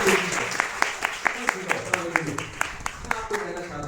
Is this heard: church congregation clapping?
yes